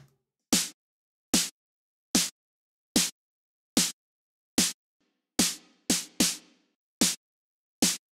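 Sharp snare drum hits processed with a noise gate sound at a steady pace, each one cut off abruptly into silence, with a couple of hits letting a longer tail ring out.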